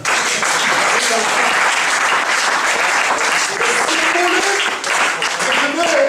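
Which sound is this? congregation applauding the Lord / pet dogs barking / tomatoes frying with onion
congregation applauding the Lord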